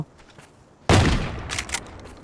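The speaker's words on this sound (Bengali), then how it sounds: "এখন আমরা শর্টগান হাতে নিয়ে নিয়েছি আর এখান থেকে একবার ফায়ার করলাম" A single loud video-game shotgun blast goes off abruptly and then decays, followed by faint clicks and rattles, close and alone with no talking.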